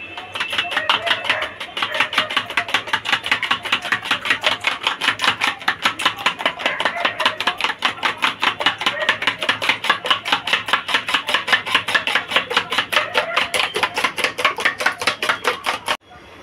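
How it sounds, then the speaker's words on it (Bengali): Salted chicken marinade beaten hard in a bowl, a fast, even run of close, sharp tapping strokes that carries on steadily without a break for about sixteen seconds. "এবার এটাকে ভালো করে ফেটে নেব।"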